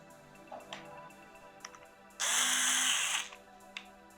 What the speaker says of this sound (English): because I'm going to use this electrical screwdriver. So to speed up the process a little, I designed this adapter to tighten the M8 bolts